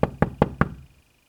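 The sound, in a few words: knocking on a window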